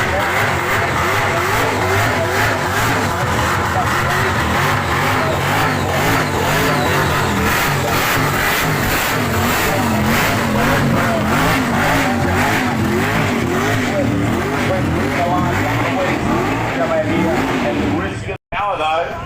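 Loud, sustained burnout at Summernats 35: a car engine revs hard and holds high, with tyre roar beneath, for almost the whole stretch. A crowd and commentators talk over it, and the sound cuts out abruptly near the end.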